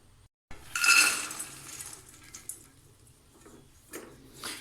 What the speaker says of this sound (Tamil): இப்போது இந்த 1/2 கிலோ முந்திரி பருப்பை நம்ம இதில் சேர்த்துக்கலாம்.